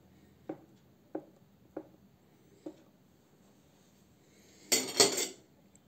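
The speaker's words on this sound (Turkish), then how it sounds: "Daha sonra külünçenin orta kısımlarını bir çatalla deliyorum" Fork tines pricking the centre of külünçe dough, a Turkish festive pastry: four soft separate taps spaced under a second apart, then a brief louder clatter near the end, close and quiet, no talking.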